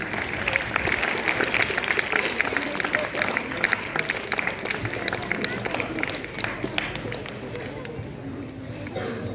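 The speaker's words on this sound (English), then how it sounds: "Hand over, please give a hand of applause." Audience applause at a school farewell program for a teacher, dense, continuous clapping from a crowd in a hall lasting several seconds, with faint voices mixed in.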